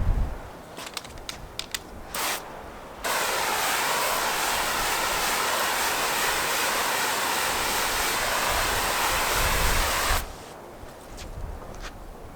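A hose sprays water onto waxed car paint in one continuous broadband rush of about seven seconds, with faint clicks and handling noise before and after.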